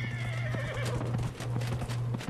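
A horse in the video game Dragon Age Inquisition gives a sharp whinny while its hooves clip-clop in a steady, rapid rhythm over a constant low game hum, close and clear with no talking.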